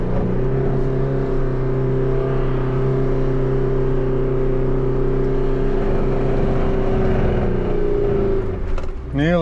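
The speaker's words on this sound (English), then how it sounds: "I'm gonna go second low and boot it." A 4WD vehicle in second low gear revs hard as it drives up a beach, its engine a loud, sustained, close drone that holds steady for several seconds before briefly easing near the end.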